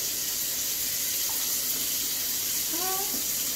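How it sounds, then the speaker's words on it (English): Water runs steadily from a sink tap at a handwashing station in a pharmacy sterile compounding area, a constant close, even rush with a brief faint tonal squeak near the end. "now I'm going to use paper towel to turn the water on"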